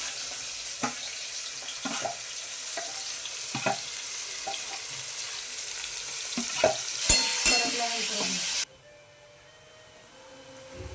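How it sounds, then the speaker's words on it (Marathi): Onion fries in oil with crackling mustard seeds and cumin for a bitter gourd dish, a steady sizzle with stirring scrapes and a couple of louder clatters, cutting abruptly to quieter background near the end. "त्याच्यात ऍड करते कांदा, मस्त कांदा असा लालसर होईपर्यंत आपल्याला चांगला भाजून घ्यायचा आहे।"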